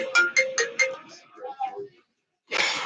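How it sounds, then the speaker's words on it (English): Phone ringtone chiming in four quick repeated notes then a short melodic run, close and clear, ending as a louder noisy burst cuts in. "Phone freaking ringing on stream."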